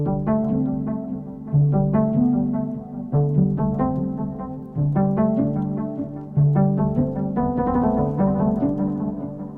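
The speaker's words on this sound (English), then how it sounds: "you can hear it's quite like a muffled, cotton-like sweet sound" A soft, muffled electric-piano-like synth plays gentle repeating chords and notes, warm and rounded with dull highs, steady and alone.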